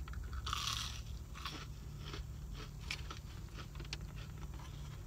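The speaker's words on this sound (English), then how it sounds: "the churro is crunchy and good" A crunchy fried churro from Del Taco is bitten and chewed inside a car, giving a run of close, crisp crunches and mouth sounds over a steady low in-car hum, with no talk.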